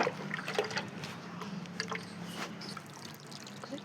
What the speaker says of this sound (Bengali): এবার এতে পুরো জল দিয়ে দেবো